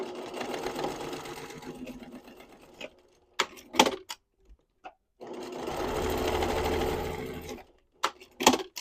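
A sewing machine stitches the short-end seams of a knit-and-go project tote, leaving a gap for the drawstring: two long continuous runs of rapid mechanical whirring, each followed by brief clicks and handling knocks.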